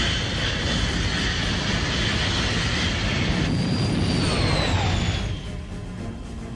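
An aircraft engine roars during a landing in a 1995 film, a loud continuous drone with a rising whine that cuts off and drops in level near the end.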